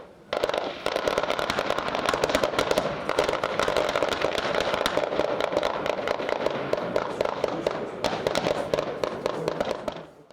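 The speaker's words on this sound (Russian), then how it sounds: "В ходе боевой стрельбы были совершенствованы навыки ведения боя из всех видов штатного вооружения и приданных средств по условному противнику." Gunfire rattles through a live-fire military exercise with many weapon types. It comes as dense, continuous volleys of sharp cracks and bursts, moderately distant, with no voices heard.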